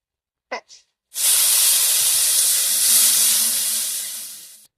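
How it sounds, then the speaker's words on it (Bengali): Washed masoor dal drops into a hot pan of oil in a village kitchen and bursts into a loud, close, hissing sizzle that holds for several seconds before tapering off, after a couple of faint bumps. "ডালটা ধুয়ে রেখেছিলাম দিয়ে ডালটা একটু ভালো করে ভেজে নেব"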